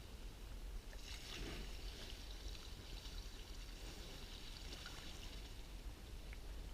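Lake water poured over hot campfire ashes while camping in Mora, Sweden, a soft continuous hiss and trickle, faint and steady throughout with no voices.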